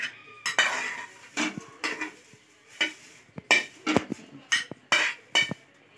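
Drumstick leaf mixture scraped from a pan into bowls, with repeated close clinks and scrapes of a metal spoon against cookware in an uneven rhythm, no talking.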